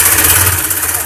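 Sewing machine running continuously along a fabric edge while stitching a lined kurti, a loud, close, steady motor whir with rapid even vibration throughout.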